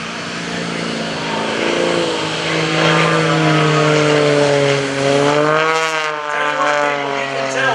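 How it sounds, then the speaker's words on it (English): A propeller aerobatic airplane at an airshow drones loudly, its engine pitch rising and falling as it swoops, tumbles and maneuvers, with a voice faintly underneath. "Airplane going sideways, tumbling nose over tail."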